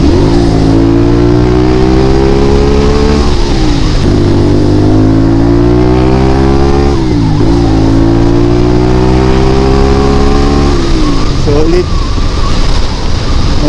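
A CFMOTO 450SR inline-two motorcycle accelerating on an expressway, engine climbing through several gears with a drop in pitch at each shift, loud and close over heavy wind rush.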